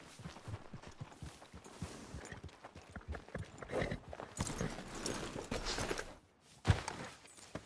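Horse hooves clip-clop at a walking pace in Red Dead Redemption 2, a faint, even run of soft steps with game ambience underneath and a brief pause near the end.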